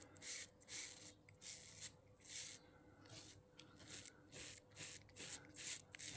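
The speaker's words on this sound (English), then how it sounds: "you can literally hear the whiskers coming off" A razor shaving off facial whiskers, close rasping strokes in a steady rhythm of about two per second, each a short scratchy burst with brief gaps between.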